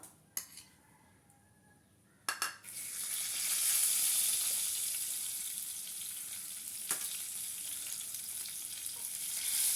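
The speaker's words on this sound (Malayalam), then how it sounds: "ഇനി നമ്മളൊരു പാൻ എടുത്തിട്ട് അതിലോട്ട് എണ്ണ ഒഴിച്ചിട്ട് ചിക്കൻ പൊരിച്ചെടുക്കുന്നുണ്ട് കേട്ടോ" Chicken fries in oil in a pan. After a few clinks, a loud, steady hiss and crackle sets in and continues throughout, with occasional utensil taps. No one speaks.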